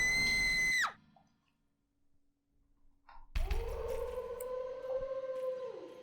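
A girl's piercing, sustained scream in the horror game Gakkou de Atta Kowai Hanashi S cuts off abruptly, followed by near silence, then a low, droning eerie tone swells in and holds.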